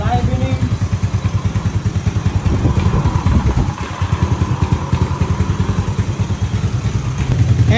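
Yamaha NMAX version 1 scooter with a 215cc engine build running on the stock ECU, idling loudly and close in a steady fast pulsing throb that dips briefly near the middle, with a voice talking over it.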